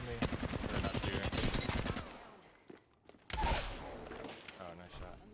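Rapid automatic gunfire from Apex Legends, playing Bangalore in Season 10, rattles loud and close in a dense burst. It cuts off, leaves a short lull, then a second sharp volley follows with fainter shots trailing after.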